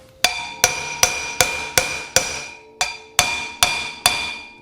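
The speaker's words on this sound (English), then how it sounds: "Sit it there, line it up, take the hammer," A hammer striking a bearing driver to knock a bearing into a Honda motorcycle part: ten sharp metallic blows at a steady, deliberate pace, each one ringing briefly and decaying, close and loud with no talk.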